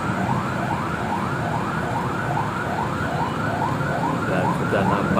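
A fire engine siren yelps rapidly and continuously near a car fire by a toll road in Mampang, South Jakarta, heard at moderate distance over steady traffic noise.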